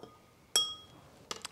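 Glass clinks as yeast dissolved in warm water is stirred in a glass, one bright ringing tap followed by two quicker clinks, near and clear in a quiet room.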